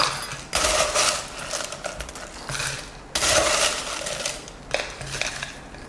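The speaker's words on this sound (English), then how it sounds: "we are going to fill it to the top with ice" Ice cubes tumbling into a glass of fruit tea, a few loud clattering bursts of rattling cubes separated by brief pauses, close and alone.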